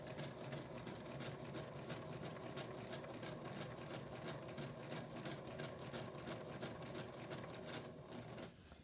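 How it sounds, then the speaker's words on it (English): A sewing machine runs steadily, stitching quilt block pieces right along a marked line, its rapid even hum and needle clatter continuous and close for nearly nine seconds before easing off at the very end. "I want you to see how I'm sewing right next to the line"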